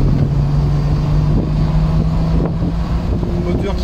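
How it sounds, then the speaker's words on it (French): A BMW 325i E30 convertible's six-cylinder engine drones steadily at speed on an expressway, with heavy wind rush over the hum. "pour vous faire profiter du petit ronflement du 6 cylindres"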